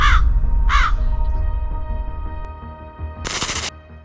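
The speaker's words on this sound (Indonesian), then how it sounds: "Pasti gara-gara ada si burung gagak ini deh." A crow caws twice in harsh, closely spaced calls near the start, loud and close over a low rumbling background, followed later by a short burst of broadband noise.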